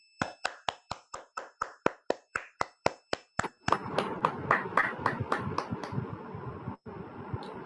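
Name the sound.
group applause after meditation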